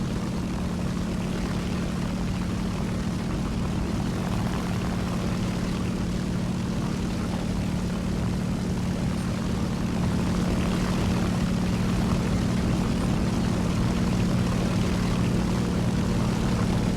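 The propeller engine of a Soviet biplane in the War Thunder video game, a loud, steady droning hum that holds unchanged throughout with no voices.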